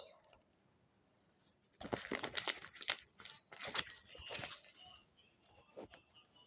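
Crinkly rustling and tearing of a paper or foil packet being opened, steady for a few seconds then fading, close up with no talking.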